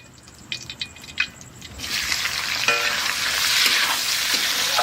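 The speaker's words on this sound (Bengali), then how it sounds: "এইবার পেঁয়াজ কষানো হবে দেখেছো তো তেল গরম হয়ে গেছে" Onions and green chillies hit hot oil with a loud, steady sizzle that swells and keeps crackling after a few light clinks at the start.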